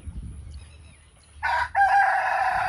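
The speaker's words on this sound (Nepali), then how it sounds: "बास्यो हो बास्यो, ठुलो भाले बास्यो" A big rooster crowing at dusk in a village: a quiet yard, then one loud, close cock-a-doodle-doo that breaks briefly and carries on strongly to the end.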